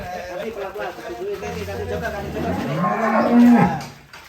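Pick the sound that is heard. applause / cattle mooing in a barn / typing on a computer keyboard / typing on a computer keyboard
cattle mooing in a barn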